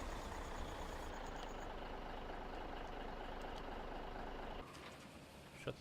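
A truck in Farming Simulator 17 backs up under a spout, its steady engine drone holding throughout with faint reversing beeps, then cutting off near the end.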